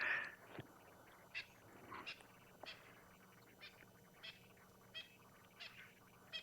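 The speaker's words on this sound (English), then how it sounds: "You can hear the francolin just chirping away, most likely in alarm." Faint, distant francolin alarm calls repeat in a steady series of short, harsh chirps over quiet outdoor ambience on an evening safari.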